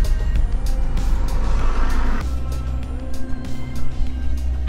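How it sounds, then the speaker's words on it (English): A car pulls in and settles into a parking spot at a Pontins holiday park in Southport, with a low engine rumble that drops to an idle hum partway through and a few soft knocks and clicks. "Right, I've just parked the car"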